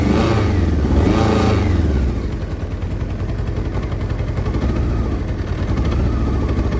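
A motorcycle engine idles and runs a bit rough after a Seafoam cleaning treatment with the choke off, a loud, steady close-up rumble with uneven pulsing and no voices.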